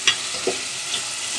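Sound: crabs added to hot pan, sizzling

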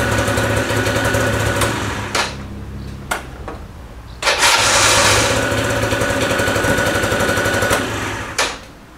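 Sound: vehicle engine starting and running

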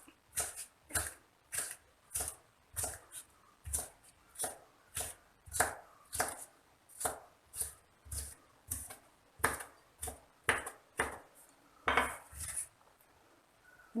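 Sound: knife chopping snake gourd

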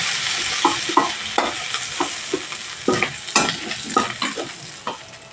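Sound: shrimp frying and being stirred in a pan

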